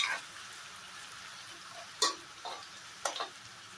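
Finely chopped onion being fried in hot oil for a duck meat curry: a steady, quiet sizzle with occasional stirring clicks and scrapes, no talking.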